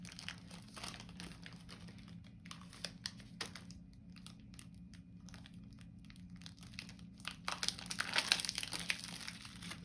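Tape is peeled off medical catheter equipment in soft, close crinkling and tearing bursts, growing louder near the end in a quiet room.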